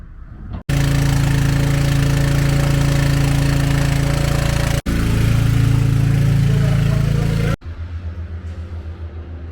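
A delivery truck's engine runs while hoses fill storage tanks at an egg farm. The drone is loud and steady, with two brief dropouts, then settles into a lower, chugging idle near the end.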